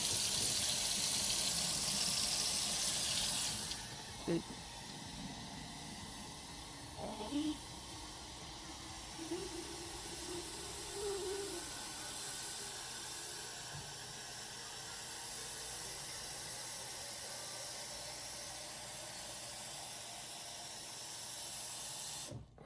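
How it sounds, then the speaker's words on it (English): Water hisses steadily into a mason jar over tea bags for cold-brew iced tea, a continuous close rushing spray that runs almost the whole time. "putting the water in after the tea bags helps them get a little mix going"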